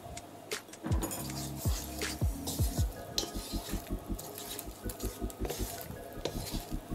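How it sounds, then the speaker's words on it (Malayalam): Tomato puree is stirred into a pot for tomato chicken rice, a spoon scraping and knocking against the pot in a steady rhythm with soft sizzling underneath. "എന്നിട്ട് നമുക്ക് നല്ലൊന്ന് മിക്സ് ആക്കി എടുക്കാം"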